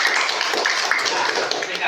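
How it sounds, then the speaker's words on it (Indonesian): A classroom group claps for the first team, a dense, steady patter of hands across the whole moment with voices mixed in. "kita berikan aplaus untuk kelompok 1"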